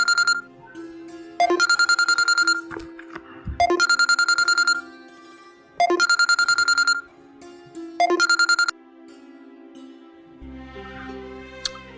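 Telephone rings in repeated electronic trilling bursts, four clear pulses about two seconds apart, loud and close with no talk over them, on an outgoing call to a father; a low hum enters near the end.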